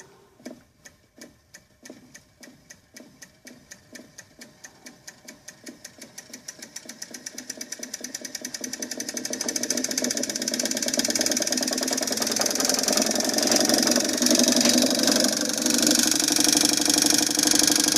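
A DC motor powered by a 12 volt battery spins up from slow, distinct thumping pulses that speed into a continuous high whirring whine, loud and close.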